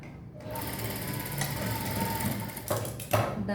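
Sewing machine running steadily while stitching the shoulder seam of a kids' lehenga, a continuous close whirring motor hum with a few brief louder bursts near the end and no talk.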